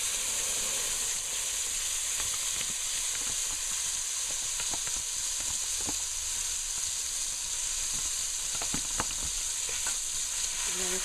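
Curry spice paste frying in hot oil for a chicken curry, a steady close sizzle and hiss throughout with occasional spatters and stirring scrapes, no talking.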